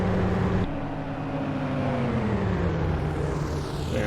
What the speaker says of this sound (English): How the flyby camera sounds in this.